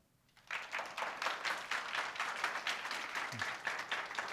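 A lecture audience breaks into applause that starts abruptly and keeps going as dense, even clapping from a moderately large crowd heard at some distance, with no talk over it.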